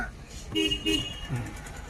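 A car horn gives two short toots in a row during a driving lesson, with a soft engine hum and faint traffic under it.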